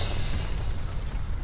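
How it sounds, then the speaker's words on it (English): A short, loud explosion sound effect from the game Aviary Attorney: a dense, rumbling boom that stays at full strength for just over a second. "is an explosion!"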